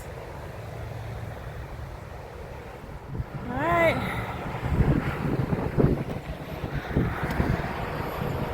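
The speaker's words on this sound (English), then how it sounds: "Windy, my hat's trying to blow off. It's noisy." Wind buffets the microphone with low rumbling gusts on an Appalachian Trail hike, and a voice speaks briefly partway through.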